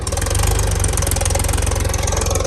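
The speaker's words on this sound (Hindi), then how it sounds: "एक ये ट्रैक्टर चल रहा है" A Mahindra 275 DI tractor engine runs near a river at a construction site, a loud, close, rapid chugging idle with a steady pulse and no talk.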